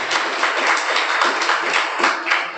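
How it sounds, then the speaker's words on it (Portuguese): Church congregation claps during an evening worship service, a dense steady patter of many hands with rhythmic peaks, fairly loud and without talk. "Vamos aplaudir ao Senhor nessa noite. Vamos glorificar a Ele com nossas palmas."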